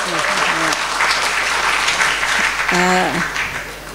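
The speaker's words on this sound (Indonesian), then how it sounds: "Tepuk tangan yang meriah untuk keempat narasumber yang sangat hebat ini" A seminar audience gives loud, sustained applause for the four speakers, with voices talking over the clapping at times.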